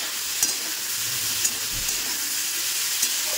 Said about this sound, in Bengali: এখানে একটু সিম আর বেগুন ভাজা করলাম